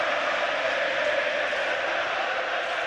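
A football crowd at Anfield stadium during a Liverpool versus Manchester City match, a dense continuous roar of many voices with no clear individual words, loud and sustained throughout.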